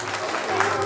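A brief, dense burst of clapping from a crowd gathered for a Valentine's Day programme, with a voice faintly present underneath.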